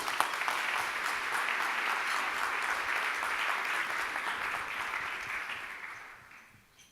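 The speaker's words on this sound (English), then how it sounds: "So let's give a big round of applause to Dan." A round of applause from an audience at a higher education discussion event, steady clapping that holds for several seconds and then tapers off quietly.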